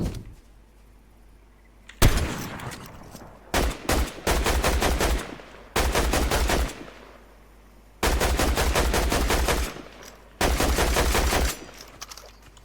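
Rapid bursts of gunfire in a shooting video game, several long stretches of fast repeated shots separated by short gaps, loud and close with no talking.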